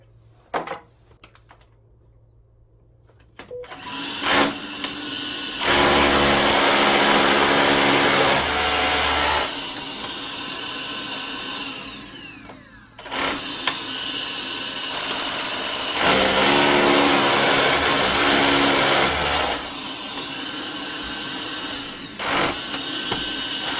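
A power drill bores holes into a wall to mount a wall-type thermostat with 6.5 mm wall plugs, loud grinding bursts of several seconds each separated by short pauses and quieter clicks, close by, without talk.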